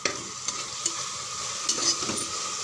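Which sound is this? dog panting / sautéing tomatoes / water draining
sautéing tomatoes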